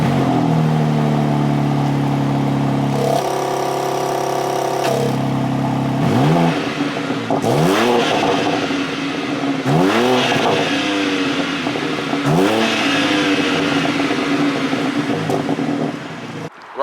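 A BMW M4 Competition engine idling then blipped through a series of sharp revs, each rising and falling in pitch, recorded close and loud from outside the stationary car.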